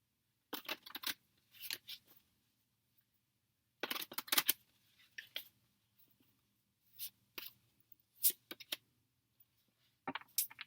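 Quiet bursts of tarot cards being shuffled and riffled, in short irregular clusters separated by near-silence, close by and with no talking.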